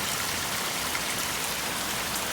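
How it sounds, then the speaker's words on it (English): Heavy rain pours down hard enough to overflow house gutters, a steady, dense hiss of drops drumming on surfaces, close and unbroken throughout with no voices. "I couldn't walk around and show you because it's too rainy."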